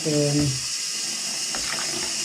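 Water runs slowly into a home brew being prepared in a bathroom, making a soft, continuous trickle. A voice is heard briefly at the start.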